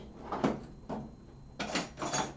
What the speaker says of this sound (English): If I don't do this right, this drawer won't close.